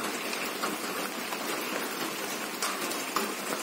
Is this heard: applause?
no